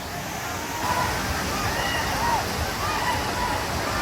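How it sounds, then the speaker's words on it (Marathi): A steady, dense rush of a waterfall roars without pause, with faint voices of a large crowd barely audible beneath it. "इथून धबधबा कसा पडताना दिसतो आपल्याला"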